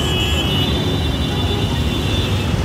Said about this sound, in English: Now brave the traffic the other way.